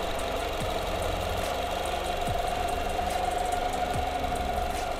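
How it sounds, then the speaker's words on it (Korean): A Nissan Altima 2.5 engine idles in the engine bay with a steady, even hum and a fine ticking rhythm, heard up close and continuous without talk. "엔진 소리 일정하네요."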